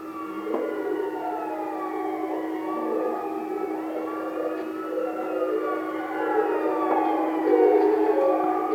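Wailing police siren from the video game Watch Dogs 2, several overlapping tones rising and falling steadily over a low constant hum, moderately loud and continuous with no talk.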